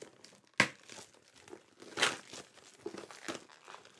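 Cardboard packaging crinkles and crunches in faint, irregular bursts as it is torn open by hand without scissors, a few sharper rips standing out from soft rustling.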